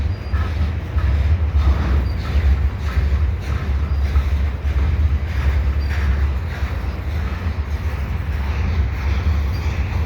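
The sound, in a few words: CPKC freight train passing at Lachine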